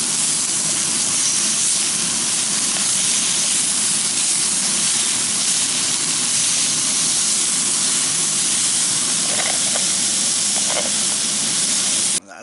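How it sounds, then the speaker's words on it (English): Potatoes and cubed steak frying Tex-Mex style over an off-grid campsite fire, giving a steady, loud, close hiss and sizzle that runs without a break and cuts off at the very end. "Din tonight is fried taters, cubed up steak,"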